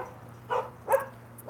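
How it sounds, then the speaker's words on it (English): Dogs bark at a visitor arriving at the door, three separate barks spaced about half a second apart, moderately close over a quiet background hum. "The dogs are barking."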